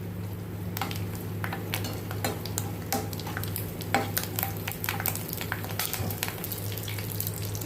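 Mustard seeds, cumin, dry chillies and curry leaves fry in hot oil, crackling and popping in quick, irregular bursts over a steady low hum, close and fairly loud.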